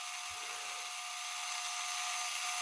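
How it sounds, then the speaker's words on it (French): An electric screwdriver runs steadily while unscrewing screws during the disassembly of a Funtek MTX RC truck. It makes a continuous, fairly close mechanical whine with a high-pitched hiss and no pauses. "la visseuse n'est pas extrêmement rapide"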